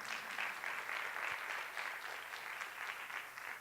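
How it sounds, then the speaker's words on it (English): An audience at a women's leadership forum applauds, a dense, even clapping of many hands that carries on steadily throughout, heard from within the room at moderate distance. "Y'all can give her applause."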